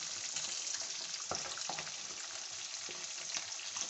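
Fish frying in a frying pan gives a steady, dense sizzle with soft crackles and pops throughout, fairly close and continuous with no talking.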